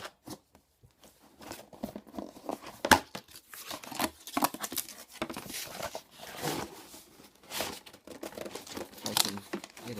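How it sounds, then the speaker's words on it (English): Plastic and cardboard packaging of a Nerf Diatron blaster crinkling and tearing as it is unboxed, close, irregular rustles and crunches with quiet pauses between. "let's go ahead and unbox this"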